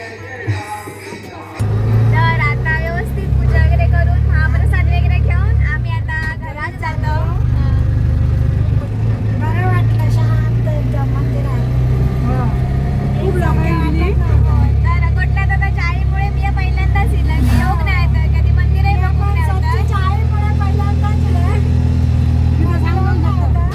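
An auto rickshaw engine drones steadily through a ride toward Chaugaon in the Konkan, a continuous low rumble with shifting road noise, loud and close, with people talking over it throughout.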